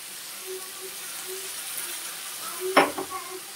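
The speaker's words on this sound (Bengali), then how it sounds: "আমি হালকা একটু জল দিয়ে দিলাম।" Kaita fish curry with tomato and onion sizzles faintly in a pan, then a small splash of water hits the hot pan and spits in a brief burst near the end.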